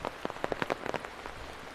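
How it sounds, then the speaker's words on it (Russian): Rain patters on a surface outdoors near trees on a muddy path in Poland, a burst of scattered drops and taps that thins out into a faint hiss. "Потому что дождь."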